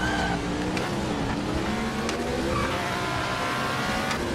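Race cars starting in the video game Project Motor Racing, several engines revving and accelerating together in a dense, continuous roar with rising gear tones and occasional tyre squeal.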